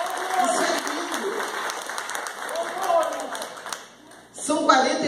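A church congregation applauds during a service, a dense wash of clapping that fades briefly and then swells again, with a voice speaking over it.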